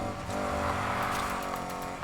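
A BMW races in Need for Speed Heat, its engine revving hard with tire squeal, loud and close over a short, steady burst with no talk.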